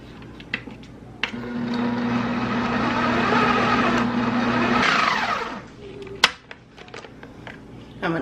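A kitchen blender whirs loudly and steadily for about four seconds while blending chicken dip ingredients, its pitch rising briefly before it winds down, followed by a sharp clunk and quiet handling.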